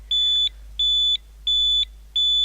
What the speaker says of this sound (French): si on a mis les bips en plus, eh bien les bips, eux, continuent d'être alimentés